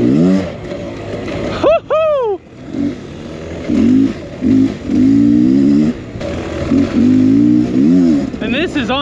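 A Beta X Trainer dirt bike rides through loose desert sand, its engine revving in short bursts and bogging between them, close and loud, with a person talking over it.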